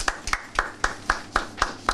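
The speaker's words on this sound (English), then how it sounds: "A round of applause for her." Applause at a press event for a speaker: sharp, evenly spaced claps, about eight in quick regular rhythm, fairly close and crisp.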